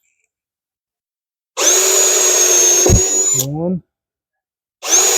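A power drill whirring loudly for about two seconds as it bores a hole in a garage workpiece, then winding down, followed after a pause by the start of a second burst; a brief spoken word is heard.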